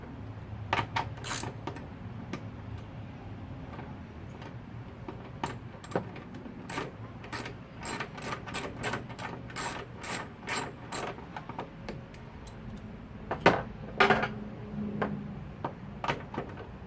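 A ratchet turns a 10mm socket to remove the headlight bolts on a Nissan Pathfinder. The clicking comes in repeated close bursts, and some handling clanks sit between the runs of clicks.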